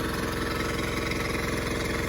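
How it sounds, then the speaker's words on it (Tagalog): A running engine drives an irrigation water pump watering a field being prepared for bitter gourd, giving a steady, even mechanical idle hum with a regular pulsing rhythm, fairly close and alone without talk. "Ayan umaandar yung ating makina."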